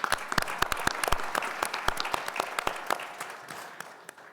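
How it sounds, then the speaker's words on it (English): A live audience at a community event claps for the sponsors, with sharp, uneven hand claps that are dense at first and thin out toward the end. "let's give a round of applause to all of our sponsors"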